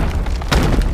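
Explosions going off near a boat, a dull booming thud hitting about halfway through a short, noisy stretch, with faint rumbling around it.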